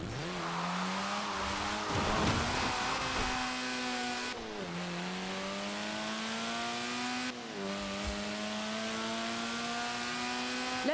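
A Lotus sports car in Forza Horizon 4 drives steadily, its engine droning and climbing in pitch through repeated gear shifts, with brief tire noise, loud and close with no voices.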